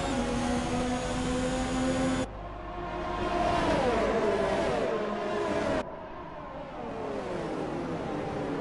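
Race cars in a sim racing game at the Austria circuit, engines whining and shifting pitch as several cars battle closely for position, with sharp cuts between camera views and a steady loud drone throughout.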